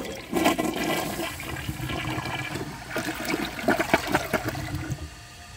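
A 2007 Kohler Highline Ingenium toilet flushes with a loud, rushing surge of water that churns steadily for several seconds, then trails off into a gurgling drain near the end.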